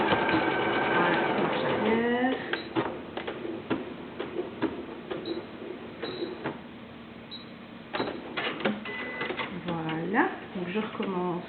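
A sewing machine stitches a one-piece fabric face mask, running in short whirring bursts with pauses and clicks between them, heard close up with someone talking over it.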